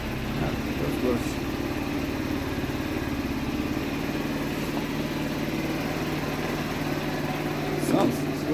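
A Baotian Angel scooter's small engine idles steadily at close range with an even, buzzy drone that holds throughout, with brief faint clicks near the end.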